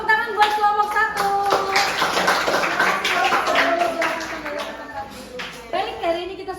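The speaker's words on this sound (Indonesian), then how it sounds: "Tepuk tangan buat kelompok" A classroom of pupils claps for a student group during a lesson, bursts of hand claps mixed with children's voices and talk, fairly close and lively, fading toward the end before another flurry.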